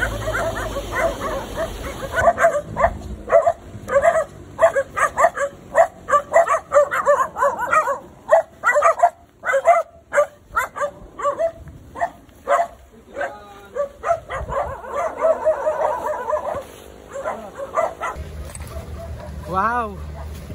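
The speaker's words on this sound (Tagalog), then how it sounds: "Puro aso yan ah." Dogs bark and yip repeatedly in rapid bursts, loud and close, with people talking and a whimpering whine near the end.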